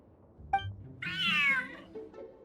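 A single clear cat meow in the game Genshin Impact, rising and falling over about half a second, heard alone and fairly close after a brief soft chirp, with quiet game ambience behind it.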